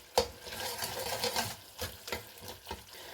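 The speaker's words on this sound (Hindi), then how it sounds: "चम्मच की मदद से थोड़ा सा इसे हम मैश कर लेंगे।" A spoon mashes cooked tomato masala for a fish salan in a pan, making soft squelching and scraping strokes in a loose rhythm over a low sizzle, close by, with nobody talking.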